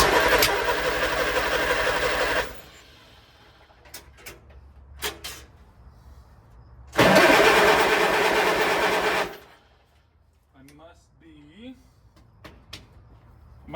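An antique Allis Chalmers B tractor engine, sitting unused for over 15 years, is cranked in two long loud bursts of a couple of seconds each with a rough misfiring chug, separated by clicks, quiet and brief talk.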